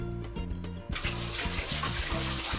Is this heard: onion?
no